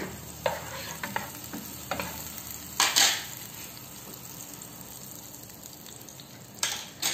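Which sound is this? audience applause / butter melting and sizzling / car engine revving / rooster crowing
butter melting and sizzling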